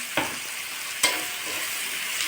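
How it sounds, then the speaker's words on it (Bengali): Potatoes fry in hot oil with salt and turmeric, a steady sizzle broken by two sharp stirring scrapes, alone and fairly quiet. "আলুগুলো আমি ভালো করে ভেজে নেব একটু লবণ হলুদ দিয়ে"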